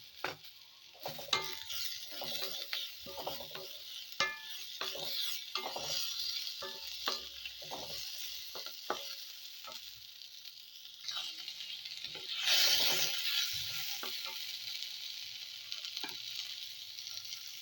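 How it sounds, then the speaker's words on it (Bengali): Steady frying sizzle fills the clip as onion and tomato are stirred, with repeated scraping and tapping of a spatula against the pan; no talking. "পেঁয়াজটা একটু ভাজা ভাজা হতেই এর মধ্যে দিয়ে দিলাম"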